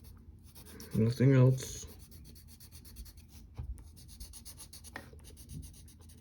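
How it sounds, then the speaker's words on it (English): A pencil, held on its side, rubs in soft scratchy strokes to shade on paper, faint and continuous, with a brief spoken remark near the start. "Use the side of your pencil."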